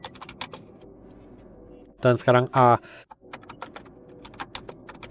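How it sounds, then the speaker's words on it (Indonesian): Computer keyboard typing of a sudo iptables command in a Linux terminal, rapid light key clicks in scattered bursts, interrupted midway by a short stretch of talk. "Kita harus mengetik sudo iptables."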